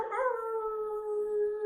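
Human voices imitate a wolf howl together as a group during a team meditation, one long sustained, steady tone that rises slightly at the start and holds clearly for nearly two seconds.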